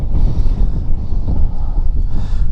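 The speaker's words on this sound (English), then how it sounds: "Wind's quite lively up here" Strong wind buffets the microphone on an open hilltop in the Malvern Hills, a steady loud low roar with gusts rising and falling throughout and no talking.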